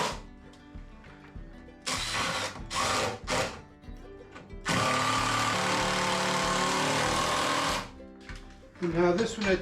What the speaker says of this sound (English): I'm going to put some screws to this.